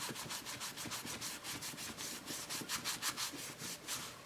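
Rubbing compound is scrubbed over a scratched ceramic plate in fast rhythmic back-and-forth strokes, a close gritty rasp repeating steadily throughout.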